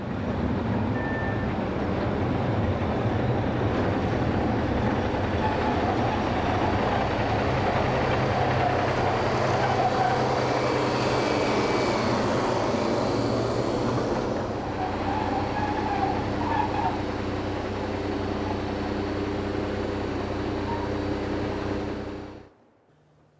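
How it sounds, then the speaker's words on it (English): A railway works machine doing planned maintenance at Wiesen Station, a steady mechanical rumble and whine with a constant hum, holding level for most of the stretch before cutting off abruptly near the end. "some planned maintenance work was being carried out between trains using this works machine"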